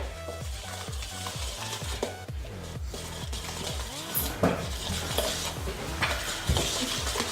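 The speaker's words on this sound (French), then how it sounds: "Vous mélangez. Énergiquement, ce serait mieux, comme ça au moins ça ira plus vite." Cookie dough for chocolate chip cookies is stirred vigorously in a bowl. A utensil scrapes in a quick, steady rhythm close by, with no one talking.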